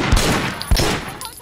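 A hospital shootout in the video game Sleeping Dogs produces two sharp gunshot bursts with quick reports, spaced about half a second apart, loud and close, followed by fainter crackle.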